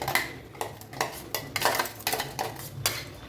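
A metal spoon stirs fried masala paste into oil in a pot for squid curry, giving repeated scraping clinks against the vessel in an irregular rhythm with a faint sizzle underneath.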